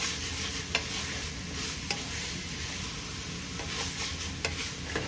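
Meat is stirred into homemade spaghetti sauce in a pot, giving a continuous wet sizzle with occasional light clicks of the spoon against the pan, no voices.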